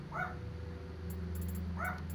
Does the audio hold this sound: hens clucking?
no